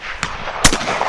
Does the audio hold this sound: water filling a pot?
no